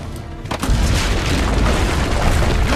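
Heavy cannon fire from fortress ramparts in Assassin's Creed Brotherhood, a deep booming blast after a brief lead-in, followed by a long rumbling roar that keeps going to the end.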